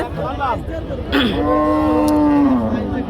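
Cattle at the Barobazar market, among cows for sale, giving a long, loud, close moo that rises and holds steady after a brief rustle, with faint crowd noise behind it.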